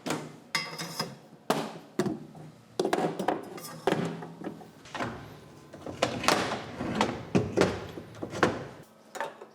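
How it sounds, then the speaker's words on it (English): A small bag of metal hardware, including M10 bolts for a DIY ladder rack, is dumped and handled, giving a busy run of close, sharp metallic clatters and knocks with brief pauses. "you can dump out the little bag of goodies"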